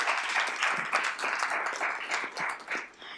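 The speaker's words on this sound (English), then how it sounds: "So let's give everyone a round of applause" Applause from a legislative committee session audience greeting newly named committee members, a steady wash of moderate clapping lasting a few seconds with no talk over it.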